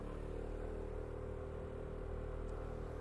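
A 2020 SYM Cruisym 150 scooter engine hums steadily at held-up revs during slow low-speed turning, a close, continuous mid-pitched drone with no talking.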